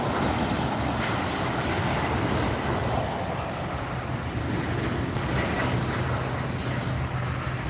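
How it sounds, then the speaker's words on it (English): An Aeromexico Boeing 737 MAX 8 airliner rolls out at LAX, giving a steady, loud, broadband jet roar with low rumble that holds evenly throughout with no talking. "Here goes Aeromexico rolling out."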